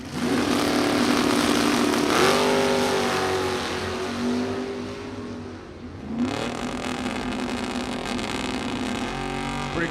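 A 1969 Camaro and a 1966 GTO launch side by side at a drag strip, their engines roaring loud and close with rising revs, easing briefly before another surge of acceleration.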